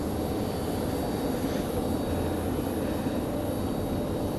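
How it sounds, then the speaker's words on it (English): A Delta CRJ regional jet gives off a continuous low droning roar with a faint high whine on top, steady and moderately loud across the short span. "We've got a Delta CRJ hanging out over here."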